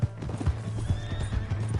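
Hooves clip-clop quickly and close by in a Red Dead Redemption 2 game scene, with a horse whinnying over the steady trotting rhythm.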